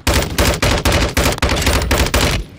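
Rapid automatic gunfire from the video game Warzone hammers out in about eight loud, close bursts separated by brief gaps, a fast steady rhythm with no talk over it.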